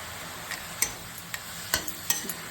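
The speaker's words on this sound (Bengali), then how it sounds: "লাল শাকটা ভাজছি আগে, শুধু তেলে বসাচ্ছি" Red amaranth leaves frying in plain oil in a pan, a soft low sizzle with several distinct stirring scrapes and clunks at uneven intervals, close and alone.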